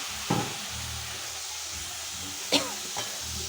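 Chopped tomatoes sauté in masala for a spicy crab curry, a soft steady sizzle under occasional stirring, with two louder scrapes of a spoon against the pan.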